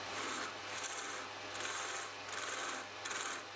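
A homemade gouge cuts wood spinning on a metal lathe, giving a faint, raspy scraping that rises and falls in several repeated passes over a low steady hum.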